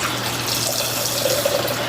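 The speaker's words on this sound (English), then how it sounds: "I am going to go ahead and pour my liquid" Homemade raw apple cider vinegar poured from a container through a strainer into a large pitcher, giving a steady, continuous liquid splash and trickle that runs close and fairly loud throughout, with no talking.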